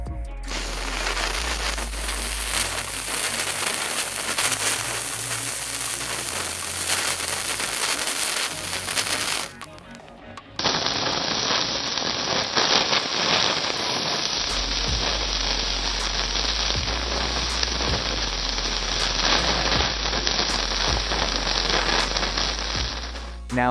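A handheld burner lit out on frozen lake ice gives a loud, steady roaring hiss. After a short dip, the roar returns as an even harsher, constant blast, crackling and sizzling with a deep low rumble underneath.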